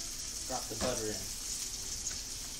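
Butter sizzles in a pan while salmon piccata is being made, giving a faint, steady frying hiss close by, with a voice briefly speaking over it near the start.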